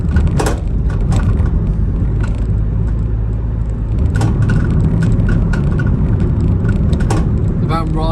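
A Nissan NV200 van drives over a small bump on freshly tarmacked road, giving a steady low cabin rumble punctuated by a few sharp knocks and rattles from the suspension and body.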